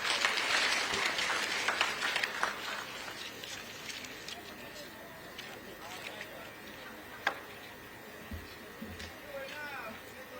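An audience at an investment forum and exposition in Chinsali District claps, with a dense burst of applause at first that thins into scattered claps and fades under a quieter room.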